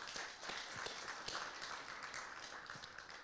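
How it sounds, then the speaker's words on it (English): Scattered, fairly faint audience clapping during an entertainment panel, uneven and thin, with a few louder individual claps standing out. "Let's give him a round of applause."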